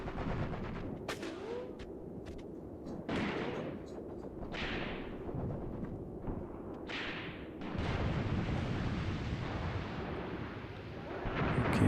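Gunfire and artillery fire in the war game Graviteam Tactics: Mius Front, with scattered distant booms and sharp cracks over a continuous rumbling battle backdrop at moderate loudness.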